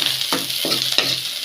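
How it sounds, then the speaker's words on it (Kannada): Spices and onion temper in hot oil with garlic and curry leaves for sambar, a steady close sizzle with three sharp spoon scrapes at even intervals, no voices. "ಈ ರೀತಿ ಒಗ್ಗರಣೆ ಕೊಡಿ."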